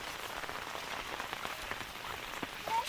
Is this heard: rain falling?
yes